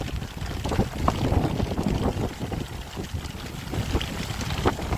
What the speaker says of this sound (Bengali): বৃষ্টি ঝোড়ো হাওয়া একটু আগে শান্ত নদী একদম অশান্ত হয়ে গেল